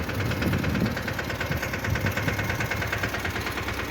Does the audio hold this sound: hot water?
no